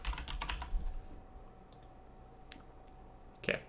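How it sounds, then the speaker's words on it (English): Soft, close keystrokes tap on a computer keyboard in quick bursts, a cluster at the start, a few scattered clicks, then a final short flurry, with no talking. "then I'll type Minecraft"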